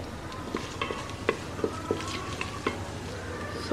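Whole fennel, cinnamon and cardamom frying in coconut oil inside a pressure cooker, a close steady sizzle broken by light scraping stirs and small crackles, with no voices.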